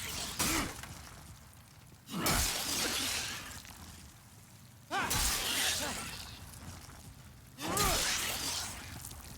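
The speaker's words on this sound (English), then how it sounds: "you can actually attack this nest and it will fall down." A nest being struck and knocked down in a video game, heard as three loud whooshing, crashing bursts spaced a few seconds apart, each trailing off into quieter background game sound.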